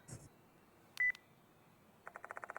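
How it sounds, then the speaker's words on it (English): In the video game Spirit Hunter: Death Mark II, a phone vibrates as a quick run of evenly spaced electronic buzzing pulses, preceded by a short tone and a few sparse beeps in an otherwise quiet scene. "The sound of a phone vibrating echoes in the room."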